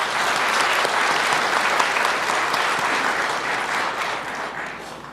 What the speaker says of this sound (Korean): 우리 이분들께 그동안의 노고에 감사의 마음을 담아 박수 한번 보내주셨으면 좋겠습니다.